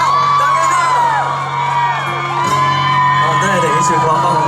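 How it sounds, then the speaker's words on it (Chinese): A loud outdoor crowd whoops and cheers to welcome a singer at a public event, with voices shouting over a sustained tone and a steady hum. "掌声欢迎"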